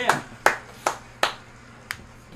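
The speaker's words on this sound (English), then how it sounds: "But clap it up for that. Clap up for Fred." Five separate claps ring out at an uneven pace, close and crisp, each fading quickly, with a faint murmur underneath.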